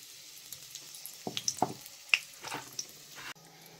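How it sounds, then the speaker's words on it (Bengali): Bay leaves, dried red chillies and whole garam masala spices dropped into hot mustard oil left from frying fish, crackling and popping in sharp bursts before settling into a softer sizzle, close by with no talking. "মাছ ভাজার তেলে কিছু ফোড়ন দিয়ে নেব। 2টো তেজপাতা দিয়ে দিলাম, শুকনো লঙ্কা 2টো আর গোটা গরম মশলা দিয়ে দিলাম।"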